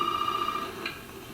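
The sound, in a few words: telephone ringing in Resident Evil 7 video game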